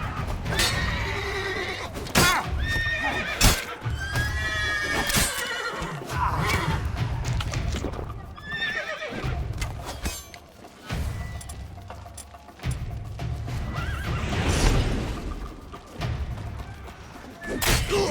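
Horses whinny repeatedly and hooves clatter in The Witcher 3 during a castle assault. Loud neighs and clip-clopping mix with heavy thuds and bursts of battle noise for the whole stretch.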